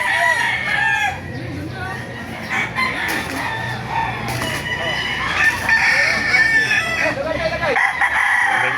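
Roosters crow repeatedly amid clucking chickens at a busy open-air poultry market in Baliuag, Bulacan, with someone talking over the steady din of the birds.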